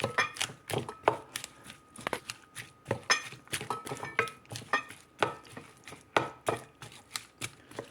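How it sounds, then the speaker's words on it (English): Egg foo young batter with bean sprouts being stirred by hand, the sprouts snapping as they break, gives a steady run of crisp, crunchy clicks and wet taps up close, without any talking. "And we mix it all together. And when you mix it, make sure you break your bean sprout a little bit like that."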